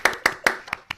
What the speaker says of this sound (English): I really abused the applause thing.